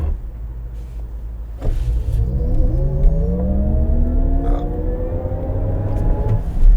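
A 2025 Cadillac Escalade IQ electric SUV launches in VMAX mode with 750 horsepower, its motor whine rising steadily in pitch over a heavy rumble of road and tire noise, loud and close from inside the cabin.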